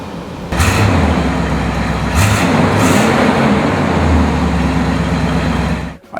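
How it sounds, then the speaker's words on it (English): A 1971 Oldsmobile Cutlass SX455 with its 455 V8 fires up close and loud, then holds a heavy rumbling idle with a few brief swells of revving, and the sound dips sharply at the very end. "I'll fire it up for you so you can hear how it sounds"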